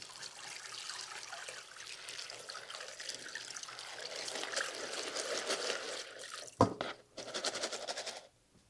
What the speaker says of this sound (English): Pull out the bad ones and take them over here and rinse some water over them.